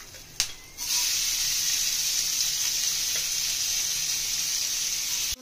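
Onion sizzling in hot oil with black cumin seeds and green chilli, a steady close frying hiss that rises after a brief clatter at the start and holds evenly, with no talking.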